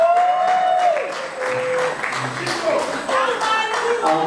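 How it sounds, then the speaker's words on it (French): Applause from an award-ceremony audience as a trophy is presented on a podium, a steady wash of clapping that runs throughout while a voice speaks over it. "Encore des applaudissements de ce patriarche qui va honorer la relève."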